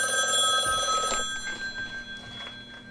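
A telephone rings with a steady electronic tone for about a second, then fades under faint background shuffling and small noises, with no voices.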